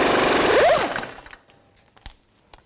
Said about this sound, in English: Now take the axle nut off